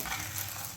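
Food fries in a little oil in a nonstick kadai over low flame, giving a steady, dense sizzle that stays close and even throughout the short moment, with no voices.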